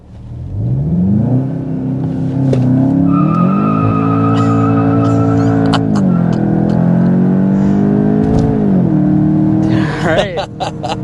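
A 2025 Volkswagen Jetta GLI launches hard on launch control. The engine revs rise and fall through several gear changes, with tire noise heard from inside the cabin. The engine sound is loud and steady, and no one talks.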